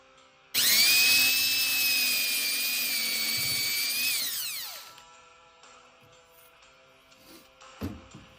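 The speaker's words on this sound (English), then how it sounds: "Alright, here we go. Let's drill this sucker." A power drill boring a 5 mm hole through an Audi/Volkswagen high-pressure fuel pump metal fitting held in a vise whines steadily at high pitch for several seconds, then winds down, followed by faint clinks and handling noises.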